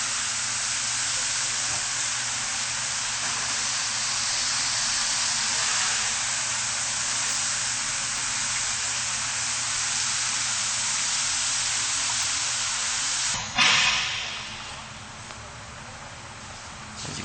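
A 1.5-inch fire hose sprays water over the sand floor of an ice rink under construction, a loud, continuous rushing hiss that abruptly changes character near the end.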